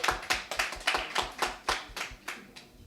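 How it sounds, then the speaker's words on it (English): A conference audience at a Digital Davos 2020 art and technology session gives a quick round of applause: about a dozen sharp, close claps in an uneven rhythm that thin out toward the end. "So a quick round of applause that we have such incredible minds here."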